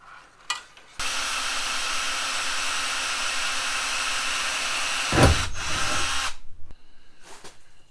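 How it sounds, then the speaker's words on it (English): A power drill with a 1/8 drill bit pre-drills screw holes for mounting a bracket on a 1969 Mustang, whirring steadily for about five seconds near the mic, then grinding briefly as it bites in, with a few shorter bursts after. "use 1/8 drill bit to pre-drill my holes for these screws here to mount this bracket on here."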